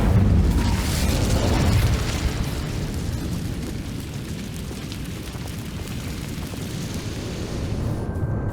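Incendio fire spell blast in Hogwarts Legacy: a loud, close roaring burst at the start that settles into a sustained rumbling whoosh of flame, fading slightly toward the end, with no talking.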